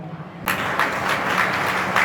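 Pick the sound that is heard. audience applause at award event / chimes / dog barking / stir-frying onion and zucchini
audience applause at award event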